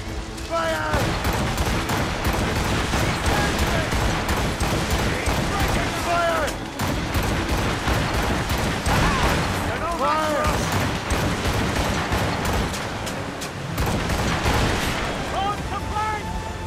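Naval cannons booming in Assassin's Creed Chronicles, heavy repeated blasts in a loud ongoing barrage over water, with voices speaking over the battle noise.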